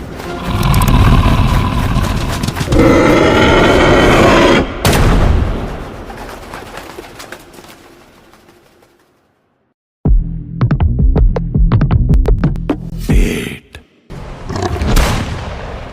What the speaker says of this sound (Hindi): गोलियों की आवाज सुन के